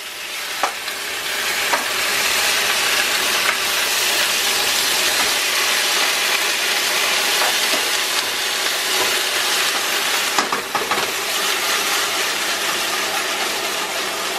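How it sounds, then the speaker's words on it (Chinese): Beef short ribs stir-fried with Pixian doubanjiang bean paste in a wok, a loud continuous close sizzle with occasional scraping stirs of the spatula, no voices. "继续翻炒"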